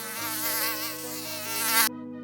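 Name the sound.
mosquito buzzing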